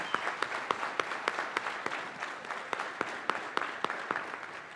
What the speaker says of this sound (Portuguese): Queria uma salva de palmas aqui para todos os nossos participantes.